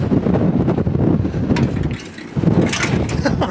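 Gusty wind outdoors at Red Mountain Open Space buffets the microphone in heavy rumbling bursts, easing briefly before surging again, with some faint voice activity mixed in.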